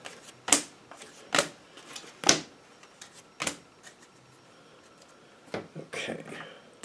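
Tarot cards laid down one after another on a table, a handful of distinct soft slaps spaced irregularly, close and fairly crisp, with a brief shuffle near the end.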